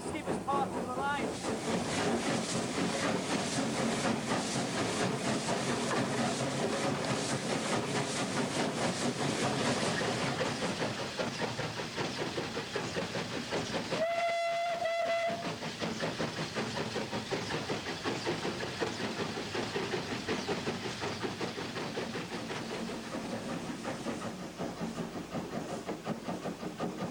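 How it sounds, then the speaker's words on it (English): A steam locomotive labours up one of the steepest gradients of the Keighley & Worth Valley Railway, a steady loud roar and hiss of working steam heard from the footplate, with a brief whistle blast midway. "you'll hear the engine working again, one of the steepest parts of the line"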